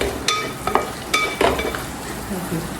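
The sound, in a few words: stirring green chillies and cashews in a pan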